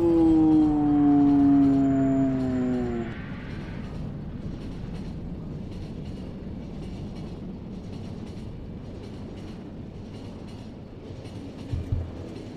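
Train rolling along in The Final Station video game: a loud horn-like tonal blast opens for about three seconds, then gives way to a steady rumbling run with faint rhythmic clatter throughout.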